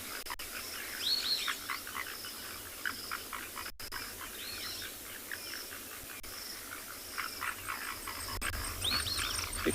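Frogs call near the water's edge at dawn on a South African safari. Repeated soft croaks and trills sound at a distance over a steady bed of insect buzz, with scattered bird notes.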